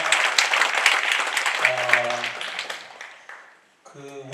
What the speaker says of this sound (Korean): 여러분 다시 한번 큰 박수를 보내주십시오